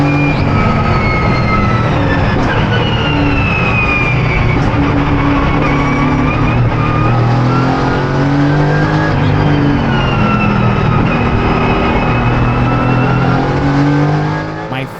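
A Mercedes AMG GT4 race car engine roars continuously while driving on track, loud and close, with its revs climbing and dropping repeatedly as it shifts gears.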